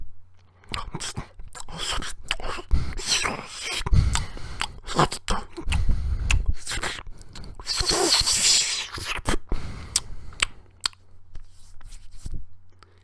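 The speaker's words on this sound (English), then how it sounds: "And that was the sound of eating noodles." Someone eating noodles up close, with irregular slurps, wet smacks and chewing bursts interrupted by short pauses and faint breaths.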